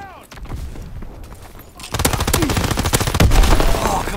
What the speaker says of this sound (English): I put a lot of bullets in that guy